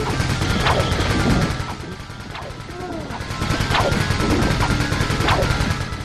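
Turrets fire in the Ratchet and Clank Gorda City Ruins level, producing repeated loud crashing shots at a slow rate amid dense game noise, with a player's voice talking over the action.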